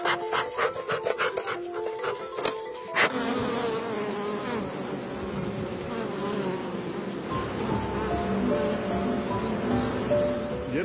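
Armenian yellow honeybees buzz close by, a dense continuous hum of many bees with individual wingbeats, brief scraping and tapping sounds early on.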